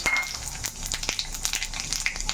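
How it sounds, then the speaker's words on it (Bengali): Whole spices for a phoron tempering crackle and sizzle in hot oil in a wok, close and lively, with rapid pops and spits over a steady frying hiss and no voice. "ফোড়নটা একটু ভাজা হোক"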